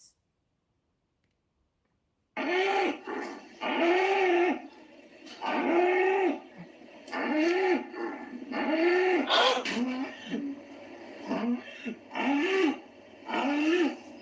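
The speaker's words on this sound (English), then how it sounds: "It's the same cow screaming the whole day." A dairy cow moos again and again, long drawn-out calls repeating roughly every one to two seconds after a silent start, loud and close, with no other sound between them.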